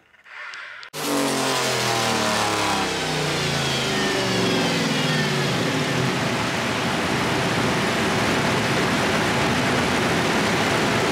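An LSX-powered Mustang with a big single turbo fires up on a hub dyno and revs hard, a loud sustained roar with rising and falling engine harmonics that runs without a break.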